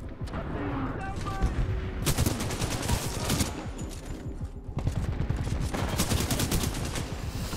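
Sustained gunfire from Titanfall 2 combat, with rapid bursts and repeated shots stacking into dense, loud volleys nearly throughout, with a few brief lulls between barrages.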